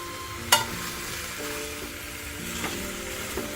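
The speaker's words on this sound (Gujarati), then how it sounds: "મસ્ત પાંચથી સાત મિનિટ ઘીમાં સાંતળવાના છે" Grated carrots and beetroot sauté in ghee in a pan, giving a steady close sizzle with a few sharper clatters of stirring.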